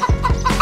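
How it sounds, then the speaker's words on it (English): A chicken gives a quick run of loud, close clucks, three short pulses ending in a higher squawk. "Chicken."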